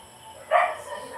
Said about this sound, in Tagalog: grabe may kumakahol pang aso